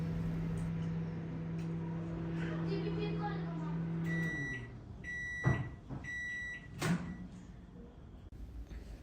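An oven runs while heating a bowl of lemon for steam cleaning: a steady electric hum is followed by a series of beeps, then a couple of soft knocks as a door opens.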